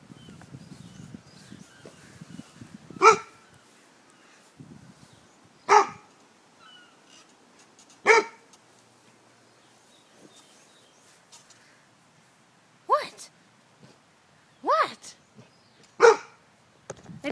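A young golden retriever, about six months old, barks at a pink balloon indoors, with sharp single barks spaced a few seconds apart and quiet stretches and faint rustling between them.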